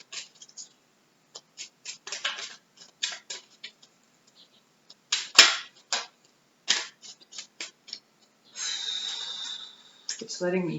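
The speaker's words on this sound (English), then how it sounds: "It's letting me listen while I shuffle" Tarot cards being shuffled in short, crisp riffling bursts with pauses between, close and fairly quiet, ending in a longer stretch of rustling.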